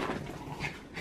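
A dog whimpers and pants softly and close by in a brief burst, with no talk.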